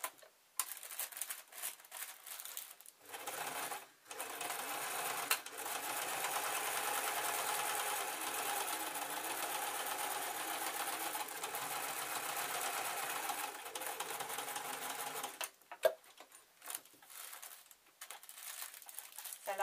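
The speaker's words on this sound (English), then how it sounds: "I'm coming down quite far as I can, and I'm reverse stitching it again, because if it goes anywhere it's going to go at the seams" Sewing machine stitching and reverse stitching a seam on a cloth bean bag filled with rice, a steady mechanical whirring chatter that runs for long stretches with brief pauses and restarts, close and clear.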